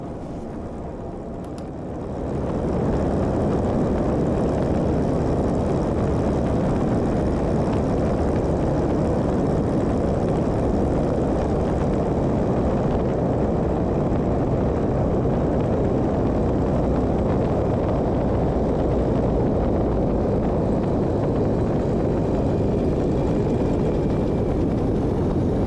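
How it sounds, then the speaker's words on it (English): Carbon Cub light aircraft landing on a wide paved runway, heard from inside: a loud, steady engine and propeller drone that rises in the first seconds and then holds, continuous and close. "look and see how much movement happens as I land my Carbon Cub"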